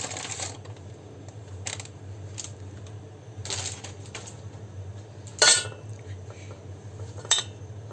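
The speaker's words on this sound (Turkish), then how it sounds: "Marshmallowları kabımıza alıyoruz." Marshmallows being tipped into a bowl, with light dish and utensil clinks coming in several separate bursts over a low steady background hum, including one sharper clatter near the end.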